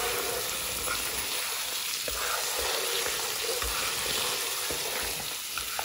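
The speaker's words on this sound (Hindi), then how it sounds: "और साथ ही इसमें मैं अब ये टमाटर पेस्ट जो है वो डाल रही हूँ।" Tomato paste sizzles and fries steadily with mutton in a karahi, a dense continuous crackle with faint stirring scrapes throughout.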